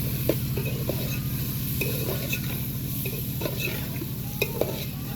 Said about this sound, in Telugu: ఇట్లా చికెన్ వేసి ఇట్లా కలపాలి, కొంచెం ఇట్లా కలపాలి